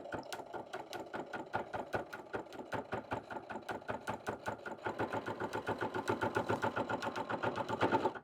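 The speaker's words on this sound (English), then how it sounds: "hold it really tight with my fingers, and finish my line of stitches." Sewing machine stitching binding onto a dish mat crossbody bag, with a fast, steady rhythmic needle clatter up close that speeds up and grows louder toward the end.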